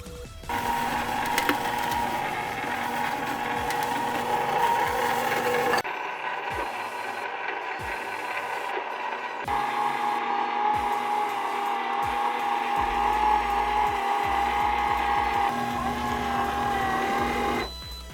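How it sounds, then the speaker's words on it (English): A gelato machine churns after its gelato button is pressed, giving a steady mechanical motor hum and whir with rhythmic clicking and rattling that drops and shifts partway through, running on without any talk. "So I'll press the gelato button and let the machine do its work."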